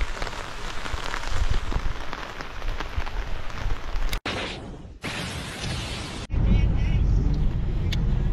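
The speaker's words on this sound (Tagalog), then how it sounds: "Malakas ang ulan." Heavy rain pours down in a loud, continuous roar during a ride home along a slippery road. The downpour drowns out everything else for the whole stretch, with brief cuts in the middle, and voices are mixed in.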